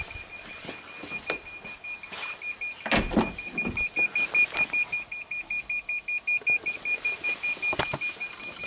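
A Toyota Prius brake system lowers its accumulator pressure: a steady electronic beep pulses in a rapid, regular train over several seconds alongside faint clicks and whirring, with sharp clunks early on.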